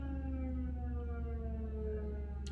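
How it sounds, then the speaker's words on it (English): A fire department siren wails nearby, its steady, slowly falling harmonic tones sounding continuously and loudly throughout, with a low rumble underneath. "Sorry about the siren."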